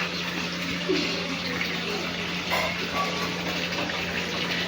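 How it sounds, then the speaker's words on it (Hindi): Dishes being washed under running water, a steady close rush from the tap with faint clinks of utensils, continuous with no talk. "तो ये धो रहे हैं बर्तन, मार रहे हैं बर्तन दोनों।"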